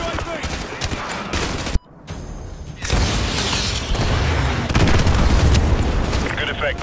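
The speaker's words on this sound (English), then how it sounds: "Army EGMs, stand by. EGM missile is online." Missile strikes from the video game Call of Duty: Modern Warfare 2 land as a burst of heavy booms and gunfire-like crackle, dropping to a brief near-silence, then a loud sustained rumble of explosions and debris rolls on to the end.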